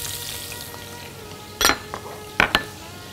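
Onions frying in the same pan after brisket: a soft background sizzle punctuated by several sharp metallic clinks and clatters of utensils against the pan.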